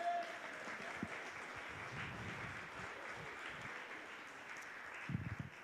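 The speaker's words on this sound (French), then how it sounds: "c'est le temps d'applaudir" An audience at a church gathering claps in a dense, steady patter that carries on throughout, moderately loud and spread out across the room.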